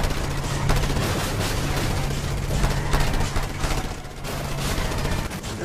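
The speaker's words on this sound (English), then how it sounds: "There's explosions and cars everywhere!" Dense Just Cause 2 multiplayer combat noise, with rapid bursts of gunfire and booming explosions piling up in a loud, continuous barrage.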